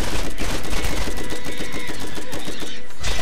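Rapid bursts of gunfire from a rifle in the video game Borderlands, a dense, loud, continuous rattle of shots with faint talk mixed in.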